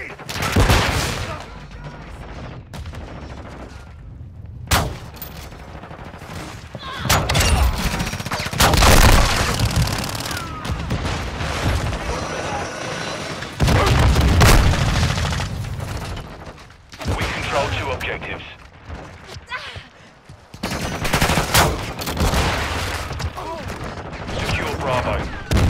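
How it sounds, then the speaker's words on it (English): Heavy gunfire in the Call of Duty: Modern Warfare II video game, with dense automatic bursts and single shots firing in waves alongside mechanical weapon clatter, loud and close, with brief lulls between volleys and occasional voices beneath. "I'm taking fire."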